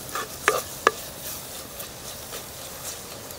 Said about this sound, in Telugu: ఇప్పుడు అల్లం వెల్లుల్లి ముద్ద కూడా వేసుకుందాం. ఇది పచ్చివాసన పోయే వరకు 2-3 నిమిషాలు కలుపుకుందామండి.